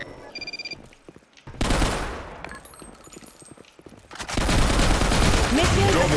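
K2 rifle tap-firing in the BlackShot online shooter, short bursts of rapid gunfire in an office map, with a dense crackle of shots and game effects that thins out, then returns, loud and continuous.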